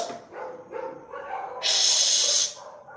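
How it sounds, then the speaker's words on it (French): Dogs bark outdoors in Rio de Janeiro, several short barks scattered across the first half at a moderate distance, followed by a sharp burst of hissing noise before the barking resumes faintly. "les chiens aboient beaucoup des fois"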